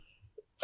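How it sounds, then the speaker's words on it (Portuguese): A single harsh cough bursts out close and loud at the very end, after near silence broken only by a couple of faint small noises. "Acho que minha tosse hoje vai incomodar"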